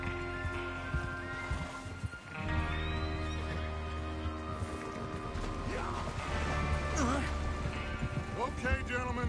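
Horses whinny and neigh among galloping hooves and rattling gear during a train-robbery ride in the Red Dead Redemption 2 video game, set under a continuous mix of game sounds and background talk.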